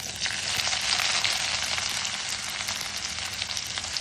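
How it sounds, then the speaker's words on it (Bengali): Chopped onion, a medium-sized one, fries in hot oil after a dried red chilli and five-spice tempering, giving a dense steady sizzle with crackling spits throughout. "এবার দিয়ে দিচ্ছি একটা মাঝারি সাইজের পেঁয়াজ কুচানো"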